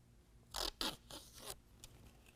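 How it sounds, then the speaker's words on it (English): Adhesive backing being peeled off a 3M protector strip on a Raptor Magnum RT step arm for a 2021 Ford F-150, heard as a few close, brief raspy tearing strokes in a quiet space. "I'm going to go ahead and peel away my 3M adhesive protector."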